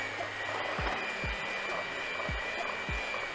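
An electric mixer whirs steadily as it blends powdered sugar into a no-bake hot chocolate cheesecake filling, a continuous close motor drone with a few low bumps and no talking.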